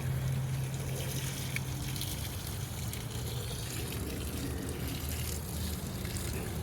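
Diluted urine is poured as liquid fertilizer onto plants, making a steady, close gushing splash of liquid that runs continuously throughout with no talking.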